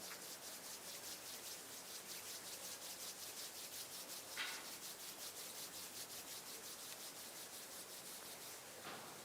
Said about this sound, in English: bring the palms of the hands together at chest level and rub them gently against each other